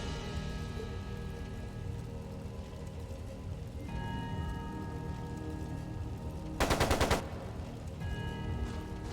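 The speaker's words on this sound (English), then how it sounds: "It sounded like a machine gun." A short burst of rapid machine gun fire rattles through a Trails of Cold Steel 2 game scene, a dense fast volley lasting about half a second over a continuous musical background.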